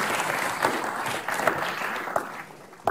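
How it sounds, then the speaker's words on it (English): Audience at a law lecture on the Magna Carta applauding two speakers, a sustained wash of clapping from a seated crowd that holds steady and thins slightly toward the end. "we should have another round of applause for both of them"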